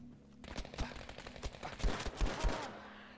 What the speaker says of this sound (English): Nice gunfire there.